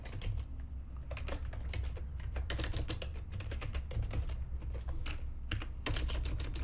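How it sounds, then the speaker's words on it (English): Rapid, steady typing on a computer keyboard while entering database settings into a Laravel 5.3 project file, close and continuous with dense clicky keystrokes and no talking. "you want to type in your database name"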